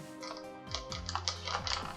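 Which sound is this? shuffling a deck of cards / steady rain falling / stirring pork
shuffling a deck of cards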